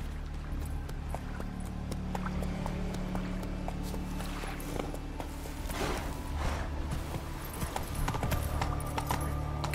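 The horse Roach galloping in The Witcher 3: Wild Hunt, a continuous fast clip-clop of hoofbeats over a low ambient bed, close and steady for the whole stretch, with no talk.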